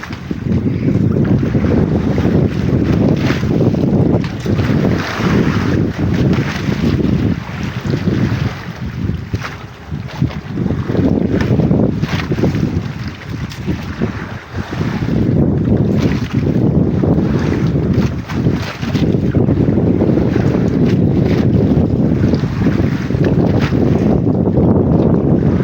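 Strong wind at sea on a fishing boat buffeting the microphone in loud, continuous gusts, with a low rumbling roar that eases briefly before surging back.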